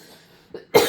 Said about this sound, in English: I don't know why I'm coughing a lot.